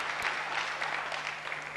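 Audience applause at a memory-power lecture, a soft, steady patter of clapping heard from a distance, fairly faint and continuous throughout with no voices over it.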